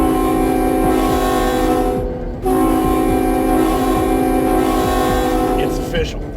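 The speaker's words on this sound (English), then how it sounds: "do you want to blow that horn?" Freight locomotive horn blown from the cab, two long loud blasts split by a brief gap, with rumbling engine and rail noise underneath.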